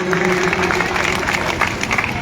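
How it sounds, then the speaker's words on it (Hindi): An audience at a village gathering in Khatiwas applauds after a political speech, with dense, steady clapping throughout and some voices mixed in. "बहुत जोरदार तालियां"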